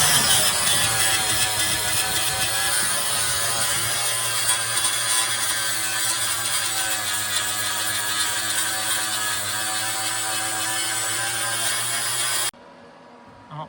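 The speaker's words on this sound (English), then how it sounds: "This is gonna take a lot of grinding." A grinder strips paint off a car roof at a sunroof: a loud, continuous harsh whirring grind that holds steady close by, then cuts off abruptly near the end.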